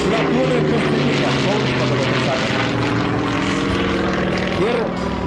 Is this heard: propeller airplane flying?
yes